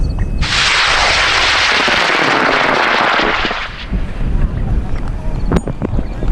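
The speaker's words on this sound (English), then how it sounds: "And we're going to send Brandon's rocket up, and Taylor's rocket up, and Shane's rocket up" High power rockets launch together in a drag race: a loud roaring rush of motor exhaust lasting about three seconds, then fading into wind noise and distant outdoor sounds.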